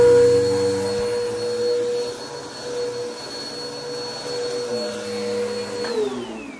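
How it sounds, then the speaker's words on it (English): Carpet vacuum cleaner running steadily close by with a continuous high whine and motor drone, strongest at the start and staying loud throughout, no talking. "I'm gonna vacuum myself out of here."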